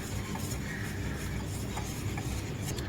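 Steady scraping and stirring as baking powder is mixed in a bowl, a soft, continuous rubbing texture close by with no talk.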